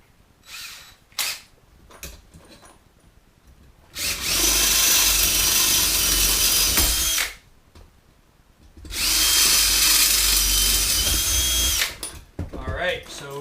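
A power drill with a larger bit bores through two stacked steel weld-on trap pans on an MB 550 tractor in two loud, close bursts of several seconds each, separated by quieter handling noises.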